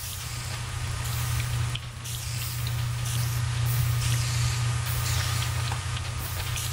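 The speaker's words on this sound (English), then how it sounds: "No, that's water hitting, fire." Water striking fire in Minecraft gives a steady, loud hissing spray that runs without a break, with faint sputtering bursts on top.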